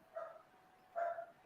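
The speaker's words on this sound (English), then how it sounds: "my dogs are barking." Two muffled dog barks, spaced about a second apart, sound from a short distance in an otherwise quiet space.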